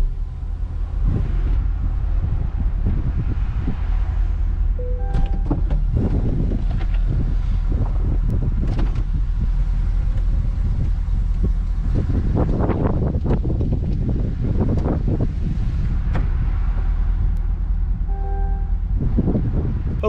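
Steady wind buffets the microphone from a Chevrolet C8 Corvette driving with its top down in Florida sun, a continuous loud rushing roar mixed with faint engine and road noise.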